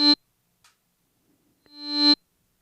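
A reversed bell-like synth note with no effects, heard twice: a short harmonic swell that cuts off abruptly, then a longer one rising to a sudden stop, dry and clean against silence.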